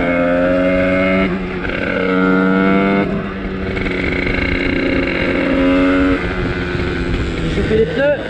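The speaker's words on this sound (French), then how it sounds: "je vais vous laisser vite fait avec le son de la moto et le son du moteur" A Sherco 75 trials motorcycle engine running steadily, its pitch rising and dropping with throttle blips, loud and close throughout.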